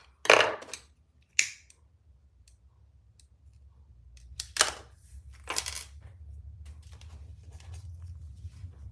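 Scissors trim material in a few sharp, close snips, two near the start and two more a few seconds later. Faint handling rustles and a quiet low hum follow. No one talks.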